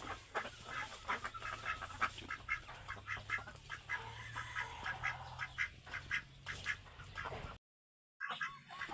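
Crested ducks on a farm quack in a busy, overlapping chorus of repeated calls, moderately near, before a brief dropout and a few more quacks.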